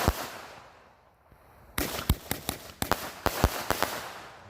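Pulse Pounder firework bangers going off outdoors, a rapid string of about a dozen sharp cracks and pops in an uneven rhythm, moderately loud, after a quiet fizzing lead-in.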